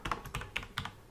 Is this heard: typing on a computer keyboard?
yes